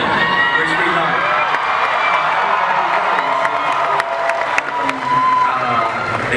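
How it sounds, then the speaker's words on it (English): A big audience at a Doctor Who Comic Con panel cheers, whoops and claps in a loud, sustained roar of crowd noise with voices mixed in. "you really commit to the cheering, which we like"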